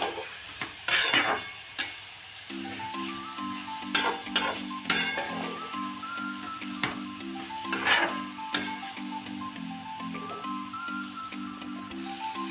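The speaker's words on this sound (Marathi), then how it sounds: "भाजून घेतलेल्या गवारीच्या शेंगा टाकून घ्यायच्या आहे छान असं परतून घ्यायचं आहे" Roasted cluster beans (gavar) being stir-fried in a pan, steady scraping of a spatula with clear stirring strokes and clinks over a continuous low sizzle, up close with no talking.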